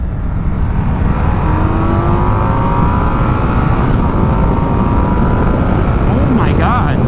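Indian Scout 101 motorcycle with a 1250cc Speed Plus engine revving hard toward redline, a loud close roar with rising pitch sweeping up through the gears.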